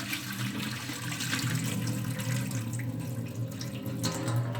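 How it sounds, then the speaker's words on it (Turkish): Water pours and splashes continuously as it is strained off soaked wheat grains being sprouted, a steady close rushing sound without any talk. "Suyumuzu doldurduk değil mi arkadaşlar? Tekrardan süzüyoruz."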